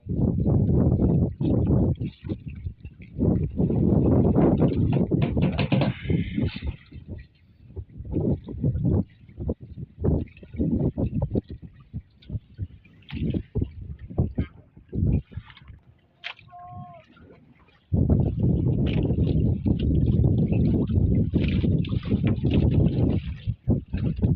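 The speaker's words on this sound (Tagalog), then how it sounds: "Yung alon at saka hangin" Strong wind buffets the microphone at sea in loud, roaring gusts while waves slosh and gurgle around a small boat, easing briefly to quieter water sounds before the wind blasts back in.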